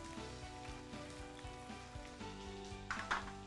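Chopped carrots, beans and fresh green peas fry in a pan for millet upma, making a faint, steady sizzle under rhythmic background music, with a brief louder clatter near the end.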